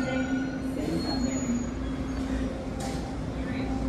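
A Toronto subway train rumbles steadily nearby at Kipling Station with a sustained low drone and a faint metallic whine, underground-station ambience with a brief hiss near the end.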